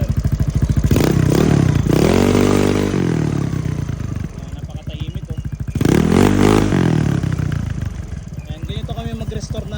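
A motorcycle fitted with a V8-style exhaust pipe revs loudly up close, its steady idle rising into two strong throttle blips, each climbing and then falling back, with some voice-like sound under the engine.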